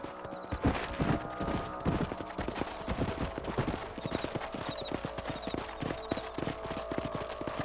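Horse hooves clip-clop steadily on open ground in Red Dead Redemption on Xbox 360, a quick, even gallop rhythm at moderate volume over a low ambient game backdrop, with no talking.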